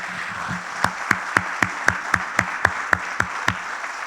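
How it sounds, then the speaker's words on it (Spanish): Applause from a church congregation at the close of a sermon, heard as a steady run of about a dozen distinct, evenly spaced claps standing out over faint background sound. "Dale un fuerte, fuerte aplauso al Señor"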